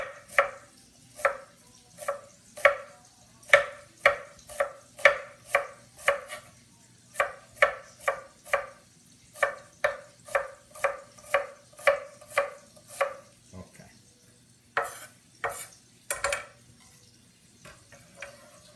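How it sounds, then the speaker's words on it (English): Knife chopping an onion on a cutting board in a home kitchen, a long series of close, crisp knocks in quick irregular bursts with short pauses, no talking. "When you cut the onion, make sure to not look at somebody else that you cut your finger."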